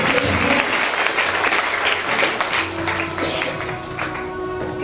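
Steady applause from an audience at a children's Sunday school skit in a church, a dense wash of clapping hands that fills the whole clip without pause.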